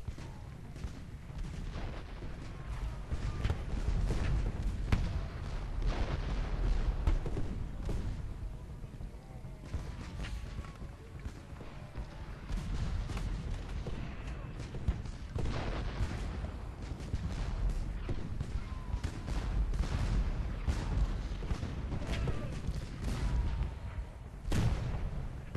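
Battlefield cannon fire in the Civil War strategy game Ultimate General: Gettysburg, a continuous barrage of booming artillery and scattered musket volleys rolling on with no letup.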